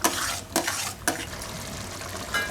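Chana paneer gravy with yogurt and cashews simmers in a pan while being stirred, a steady bubbling sizzle broken by a few sharp scraping strokes, close and alone.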